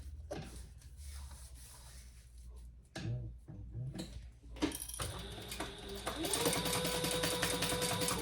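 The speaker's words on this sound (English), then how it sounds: "we're gonna stitch down both sides" A sewing machine stitches down both sides of a men's trifold wallet, its motor whirring in steady runs that grow louder and continuous toward the end, with brief pauses and handling clatter between.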